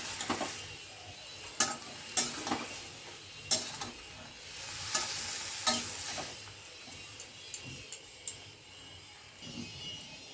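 An eggplant dish with added water is stirred and mixed in a pan, repeated scraping strokes of a spatula over a gentle simmering sizzle, loud at first and easing off toward the end.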